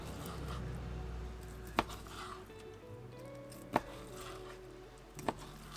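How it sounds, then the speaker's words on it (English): A knife slices through gorgonzola cheese and steak in a camper van kitchen, making three sharp, faint taps on a board at roughly even intervals over a quiet background hum. "so I'm going to slice the gorgonzola now, and then I'll slice the steak"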